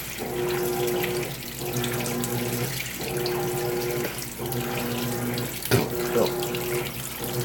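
Water runs steadily into a Maytag washing machine filling on its delicate hand-wash cycle, a continuous rushing pour with a low hum underneath and a brief knock near the end.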